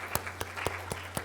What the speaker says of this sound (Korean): 큰 박수로 따뜻한 마음으로 환영하겠습니다